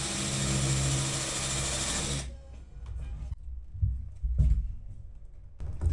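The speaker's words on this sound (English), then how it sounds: "This one I'm going to countersink because I'm going to end up putting a piece of trim over the top of it." A power drill drives and countersinks a screw into the ceiling of a 6x10 cargo trailer. There is a loud steady whir for about two seconds, then it stops, and faint knocks and handling noises follow.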